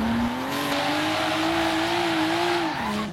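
Nissan Skyline GT-R R34 with RWD rally suspension drifting in Forza Horizon 3, its engine holding a steady loud drone with a sliding pitch and tire squeal over a continuous rush of noise, with no talking.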